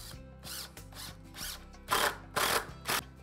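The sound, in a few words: screws driven with a power drill into tabletop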